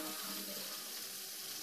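Running tap water pours steadily over a hot vape coil from a SmokTech Octopus RDA being quenched, a soft continuous hiss and splash with no talking.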